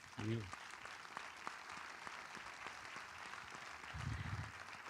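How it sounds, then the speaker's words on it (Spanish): A colloquium audience at a film event claps in a sparse, moderate patter between two brief bursts of speech. "Un aplauso para ellos y ella."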